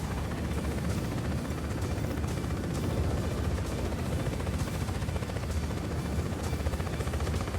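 A helicopter in the video game Just Cause 4 drones on with a steady, dense rotor noise that fills the whole stretch at an even loudness, with no talk over it.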